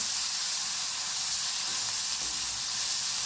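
Onion sautés in a pan until reddish, for a spicy brinjal curry, making a constant, even sizzling hiss that stays close and unbroken throughout.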